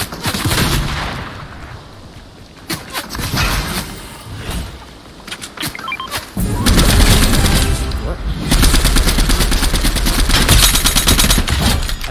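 Video game gunfire from an opponent crackles in rapid automatic bursts, loud and close, with pauses between volleys and heavier sustained firing in the second half, while a player briefly exclaims over it.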